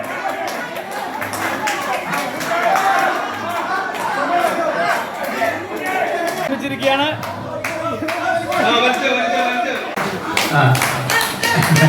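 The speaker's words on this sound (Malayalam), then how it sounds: "കൈയടിച്ച് പ്രോത്സാഹിപ്പിക്കാം" Scattered clapping from a small crowd at a community gathering for elders, cheering on performing children, mixed with lively chatter and voices, continuing steadily throughout.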